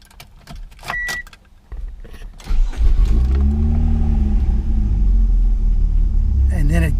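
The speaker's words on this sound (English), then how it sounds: "I've got a high idle at the start." Mazda engine with an intermittent idle fault, starting quiet with clicks and rattles, then catching into a loud, steady high idle rumble; a voice speaks briefly near the end.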